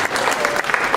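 A short burst of brisk audience clapping during a performance of the musical "Table Grace Cafe," loud and continuous, with faint crowd noise mixed in.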